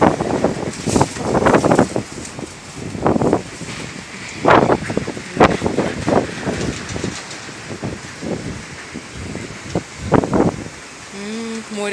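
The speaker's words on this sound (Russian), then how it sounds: "Ураганище, это натуральный ураган." Strong hurricane-force wind at the sea in Batumi, roaring and buffeting the microphone in loud gusts throughout, with a voice speaking intermittently over it.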